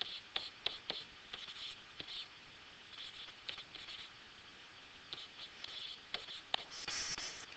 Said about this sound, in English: I'm going to rewrite this over here so I can write it larger.